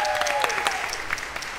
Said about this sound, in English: Why don't we bring her out here and give her a round of applause?